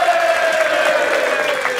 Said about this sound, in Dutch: Een goed applaus voor Duo Excel.